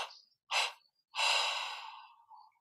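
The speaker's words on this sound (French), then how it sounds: "prenons une inspiration profonde. Expire en 3 fois." Close, audible breathing during a guided meditation: one deep breath drawn in, then air let out in separate puffs, with short pauses between them.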